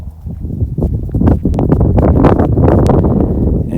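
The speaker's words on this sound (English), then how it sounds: "And yes, it's very, very windy right now." Gusty wind buffets the microphone on a canyon trail at Red Rock Canyon, a loud, rough roar that swells after the first second and stays heavy throughout.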